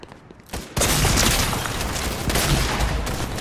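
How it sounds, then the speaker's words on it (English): A shotgun fires in a football-themed video game, a sudden loud blast after a quiet start that gives way to a dense, sustained burst of gunfire-like noise. "why did my shotgun shoot?"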